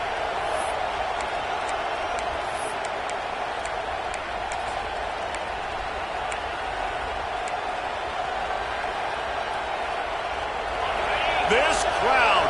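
Stadium crowd roar in a college football video game, a dense continuous wash of cheering that swells near the end, with scattered sharp clicks and a commentator's voice talking over it.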